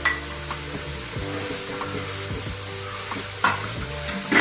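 Chicken frying with added spices in a pan, a steady sizzle broken by several thuds and scrapes of a spoon stirring against the metal, with a low background hum and no speech.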